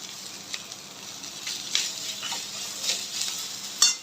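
Rice being stirred into sizzling chilli paneer fried rice in a hot pan, with a steady bright fry hiss and irregular scraping stirs of a spatula, close and moderately loud, with no voices.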